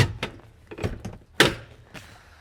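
Driver's side door of a 1992 Dodge Ramcharger 4WD being handled, a series of short clicks and knocks from the latch and hinges, with one sharper thump in the middle, close and fairly quiet.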